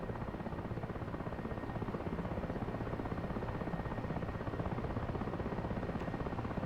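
A Mi-8 helicopter in a flight simulator game flies through a snowstorm, its rotor and engine making a steady, dense, low drone that holds even and unbroken throughout at moderate volume.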